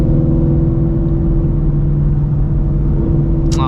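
Another car revs and accelerates on a wet road in the rain beside a Shelby GT350, a loud steady engine rumble and tire drone close by, swelling briefly with a rising pitch toward the end.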